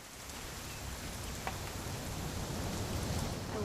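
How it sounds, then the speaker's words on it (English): Continuous rainfall from What Remains of Edith Finch, a broad unbroken wash of drops pattering on surfaces, swelling slightly toward the end, with no voices. "It's gonna rain the whole weekend,"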